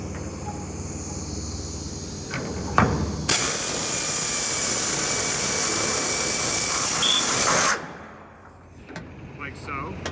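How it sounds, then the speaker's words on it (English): A drill bores out an old rivet hole in a metal nose rail from the inside, a loud continuous whine lasting several seconds and stopping abruptly, with clunks and handling noise before and after. "Then you want to drill from the inside out in one of the old holes."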